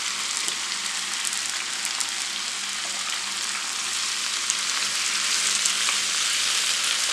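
Green tomatoes and green chillies sauté in a pan, giving a continuous even sizzle that holds steady throughout, close and fairly loud, with no talking.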